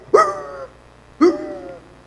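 A person's voice imitates a dog barking, two loud, close, separate bark-like calls about a second apart, each with a sharp onset and a drawn-out tail, with no other talk around them.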